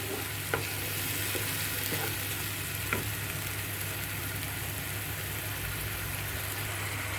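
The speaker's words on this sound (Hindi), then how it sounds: "अच्छे से भुनेंगे इस मसाले को कम सेक पर" Ginger and garlic masala fries on low heat in a pan, a constant even sizzle with a low hum underneath and a few faint taps from stirring early on. No one speaks.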